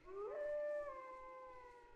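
A wolf-like howl from the video game Tales of Legendia, one long rising then sustained wavering cry lasting about two seconds, clear and fairly close with no talking.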